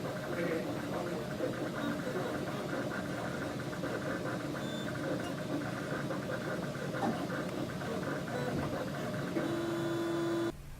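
A 3D printer in a college biology lab runs steadily, giving a continuous mechanical hum and whir with faint rhythmic stepping that holds level throughout before cutting off.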